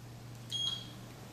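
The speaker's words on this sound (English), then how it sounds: "An alarm will indicate pause has been entered." A single short electronic beep from a Gymboss interval timer rings out briefly over a low steady hum, thin and high-pitched.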